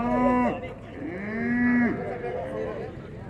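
Cattle at a traditional livestock fair in São Bento do Una, Pernambuco, let out long, loud, close moos, one after another with overlapping calls behind.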